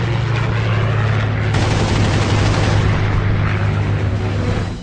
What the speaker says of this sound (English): he lashes out with the only weapons he has, his cannons